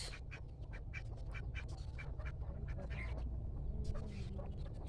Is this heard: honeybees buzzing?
no